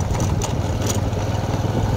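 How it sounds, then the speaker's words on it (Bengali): A motorbike rides along a road beside the Ganges, its engine giving a steady low drone with a faint rumble of wind and road noise throughout, close and continuous. "চলছে বাইক।"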